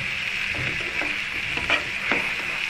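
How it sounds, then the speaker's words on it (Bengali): Pointed gourd stir-fried in a pan with turmeric and spices gives a steady sizzle. A spoon scrapes and stirs through it in short, irregular strokes, close up and without any talk. "এই মশলাগুলো দিয়ে আমি একটু পটলটাকে কষিয়ে নেব"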